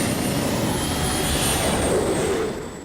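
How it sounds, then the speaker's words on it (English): Motorcycle fitted with a jet helicopter turbine engine gives a loud, steady roaring whoosh with a high whine above it, sustained throughout and fading slightly at the very end. "Why would you put a jet helicopter engine in a motorcycle frame and try to pilot it down the street?"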